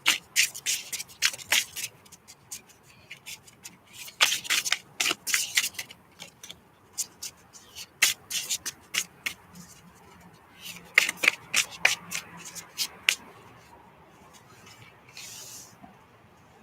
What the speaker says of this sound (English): Okay, I'm shuffling these cards here.